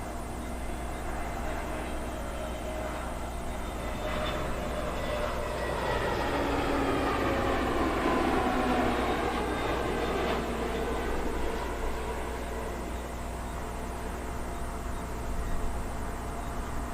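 At London Heathrow, an airliner comes in to land on runway 09 left, its engine roar swelling from a distance to a broad rushing peak overhead and then easing off into a steady background rumble.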